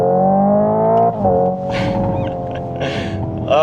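A Hyundai Ioniq 5 N electric car accelerates at full power, its synthetic engine tone climbing in stepped, rising pitches with brief shift-like breaks, loud and close, with no talk over it.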